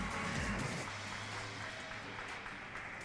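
Crowd applause at a horse show grand national, a distant, soft wash of clapping that is slightly stronger at first and then thins out.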